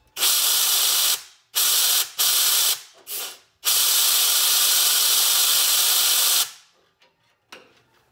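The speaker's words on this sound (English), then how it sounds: "You're going to put your blowgun or your straw right in the end of that, and you're going to give it a couple puffs." Blowgun air puffs clearing the gas passage of a Little Buddy heater: sharp, hissing bursts of compressed air, one long blast then several short spurts and a final sustained hiss, close and loud, ending with faint handling clicks.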